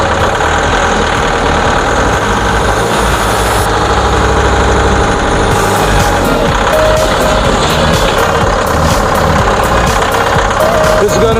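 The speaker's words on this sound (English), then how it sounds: "This is maxing out my tractor." A homestead tractor engine labors at full throttle while hauling a 16-foot poplar log during logging work, a loud, continuous rumbling drone with steady vibration and no break for the whole stretch.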